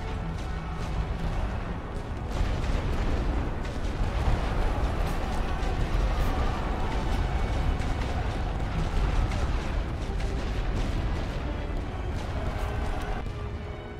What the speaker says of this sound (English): The barrage.